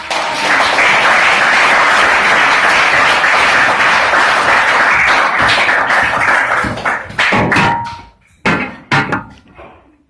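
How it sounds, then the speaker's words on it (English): Audience applause after a talk on new money and Bitcoin fills the room at full volume for about seven seconds, then thins into scattered, fading claps before stopping. "please give a big round of applause"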